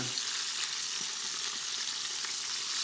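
Kosher veal shanks for osso buco sear in a hot pan with a continuous, even, crackling sizzle that stays steady throughout.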